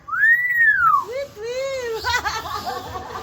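A Nias hill myna whistles a loud, close, rising-and-falling note, then gives lower slurred whistles and chattering calls.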